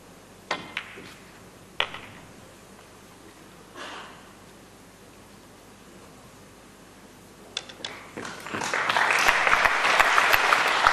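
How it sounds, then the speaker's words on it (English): A few sharp knocks and clicks of pool balls in a quiet room at a 9-ball pool match, then audience applause swells in near the end and builds to steady clapping. "Appreciative applause, rightfully so."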